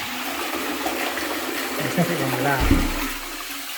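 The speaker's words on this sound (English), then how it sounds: "That toilet's going down lovely." A toilet flushing in a countryside building, with a gurgling rush of water rising and draining near the end, while someone speaks briefly over it.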